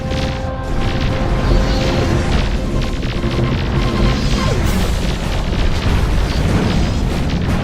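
Explosions roar as an enemy fighter squadron is destroyed in the space combat game Nexus: The Jupiter Incident, a dense, continuous wall of booms and crashes with no pause across the whole stretch.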